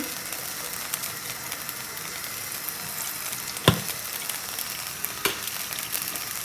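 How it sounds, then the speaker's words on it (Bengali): Hot oil sizzling steadily in a frying pan for a cabbage dish, a continuous hiss with a couple of sharp pops and crackles, close and alone with no talk. "এই যে আমি ফ্রাই প্যানে তেল দিচ্ছি"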